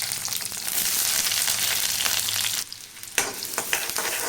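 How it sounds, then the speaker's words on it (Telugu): Onion pieces fry in hot oil in a pan with a loud, steady hiss that drops sharply partway through, followed by a few clicks and softer sizzling. "నూనె కొంచెం వేడైన తర్వాత ఉల్లిపాయ ముక్కలు వేసుకోవాలి."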